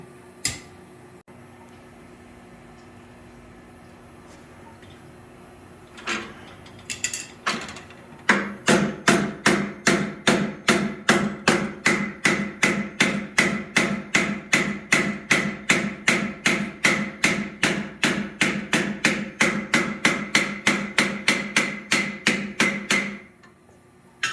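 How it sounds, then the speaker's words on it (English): Blacksmith flattening a hot forged steel piece: a long run of steady, evenly spaced loud hammer blows ringing on an anvil, preceded by a few isolated strikes and handling knocks. "We're going to go for one more heat and try and flatten it"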